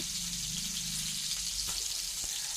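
Pieces of pointed gourd (potol) frying in oil until brown, giving a steady soft sizzle with a broad hiss throughout and a couple of brief clicks from stirring, close and fairly quiet with no talk.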